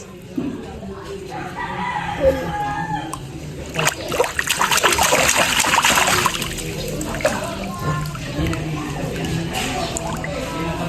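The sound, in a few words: water splashing in a child's swimming pool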